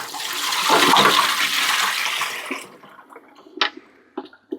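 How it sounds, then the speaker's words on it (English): Leftover frothy water pours steadily out of a Waterdrop WD-A2 reverse osmosis tank for a few seconds, then trails off into a handful of scattered drips and small splashes. "take this out and pour out the remaining water"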